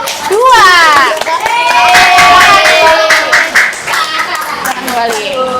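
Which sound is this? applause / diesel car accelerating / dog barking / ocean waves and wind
applause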